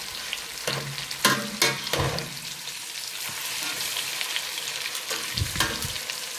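Salmon fillets pan-searing in a frying pan, a steady close crackling sizzle with brief louder bursts of spatter and stirring, no talk over it.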